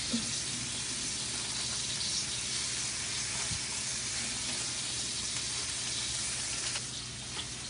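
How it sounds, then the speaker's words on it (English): Burger patties for a nacho burger sear on a hot griddle, giving a steady, close, dense sizzle and hiss that runs unbroken from start to finish with no talking. "On the 3 that are nicely seared, these are still kind of cooking."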